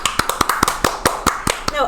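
Steady run of about nine sharp hand claps, evenly spaced and fairly close, from a small group or single person applauding during a Formula 1 podcast chat.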